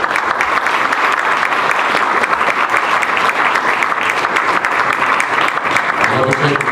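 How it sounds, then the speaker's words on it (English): An audience at a mayoral candidate forum applauds, a loud, dense, even wash of clapping that carries on throughout, with a voice starting up faintly near the end. "How about a round of applause?"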